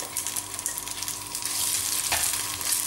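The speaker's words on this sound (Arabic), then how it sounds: "تقليه مليح حتى يطيب كومبليتمون" Meat frying in a pan sizzles steadily with crackling spatters, close and continuous.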